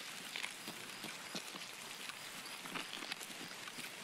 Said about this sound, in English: We got rain that can cover our sound.